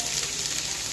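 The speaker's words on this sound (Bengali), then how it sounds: "গরম তেলে ফোড়নে দিয়ে দিলাম" Mashed banana stem tipped into hot oil with a mustard tempering, hissing in a loud, dense, continuous sizzle close up with no voices.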